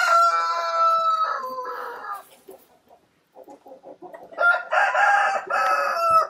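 Chickens in a coop call loudly and close by, with a rooster crowing, several bursts of squawking and clucking, a brief quiet gap in the middle, then another loud round of cackling.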